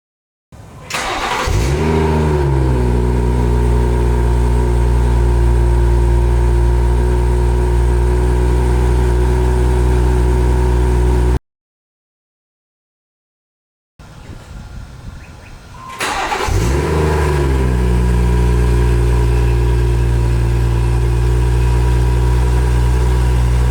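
A B58 engine fitted with an upgraded downpipe and Remus muffler exhaust starts up twice, each time with a sharp cranking flare settling into a deep steady drone, separated by a brief silence and a quieter stretch of mechanical noise.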